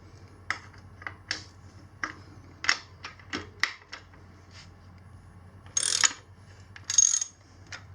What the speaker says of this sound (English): So we're going to go loosen the adjuster again.